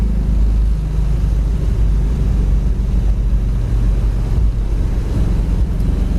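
A 1967 Chevelle Super Sport cruises down the road at about 65 mph. Steady, loud engine and road roar mix with heavy wind buffeting the whole way through.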